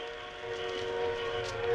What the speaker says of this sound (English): A train. There's a train coming. It's coming toward me.